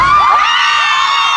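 A large crowd at a live stage event in Hong Kong shouts and cheers loudly, high excited voices and whoops blending into a sustained roar.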